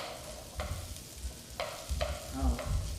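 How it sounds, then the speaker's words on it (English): Asparagus, cleaned and cut into 2-inch pieces, is tossed into a hot pan and fries with a steady close sizzle, broken by a few sharp stirring clacks. No one speaks. "We're going to toss that in and let those"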